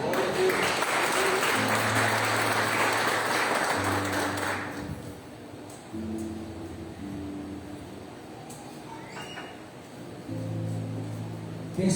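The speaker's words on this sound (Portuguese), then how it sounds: "Você pode aplaudir o Senhor?" A congregation at a Sunday church service breaks into loud, sustained applause for a few seconds, then it fades as soft keyboard chords carry on.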